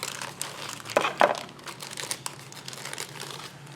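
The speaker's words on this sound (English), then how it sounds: "I will just open those plastic protection film" Plastic protection film is peeled and crinkled off resin parts of a 1/72 Metroliner model kit, with two sharp crackling bursts near the start and softer rustling afterward, close and fairly quiet.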